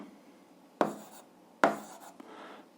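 Two crisp bursts of a pen or marker writing an algebra answer on a board, each a short scratchy stroke, close and clear in a quiet room, followed by a faint tap.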